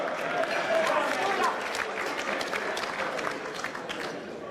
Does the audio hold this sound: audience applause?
yes